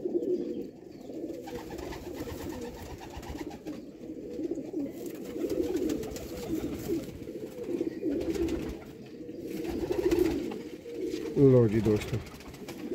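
Rare Sialkoti rooftop pigeons coo in low, repeated throaty rolls close by, a continuous burbling chorus with someone speaking briefly near the start.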